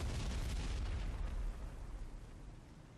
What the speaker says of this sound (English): Bombs out on the AAA site.